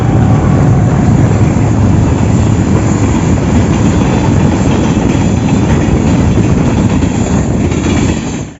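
A train rumbles steadily past up close at a railway crossing, a loud continuous roar with faint rhythmic wheel clatter, fading slightly at the very end.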